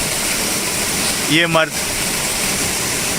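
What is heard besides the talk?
waterfall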